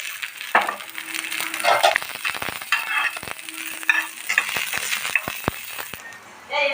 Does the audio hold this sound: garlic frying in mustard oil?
yes